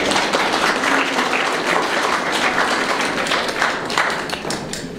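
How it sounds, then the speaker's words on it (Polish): A gallery audience at a dance exhibition opening in Włocławek applauds in a dense, continuous wave of clapping that fades slightly toward the end. "Także wielkie brawa."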